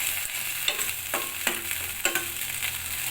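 Poppy seed and cashew paste sautés in oil in a pan for a Bengali rui-katla fish curry, a steady close sizzle broken by several sharp scraping stirs of a spatula.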